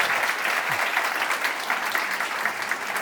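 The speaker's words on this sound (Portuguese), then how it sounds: "Vamos aplaudi-los, por favor." An audience claps steadily at a talk on body, love and sex, a dense, even patter of many hands at moderate distance that carries on without pause and without speech.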